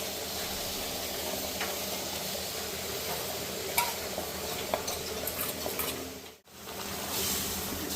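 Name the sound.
jaggery syrup being mixed into moong dal powder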